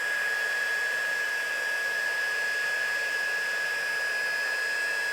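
A heat embossing tool melts gold embossing powder on a Stampin' Up suspended cross card, giving a steady, close, loud blowing whoosh with a fixed whine that holds unbroken throughout, no voices.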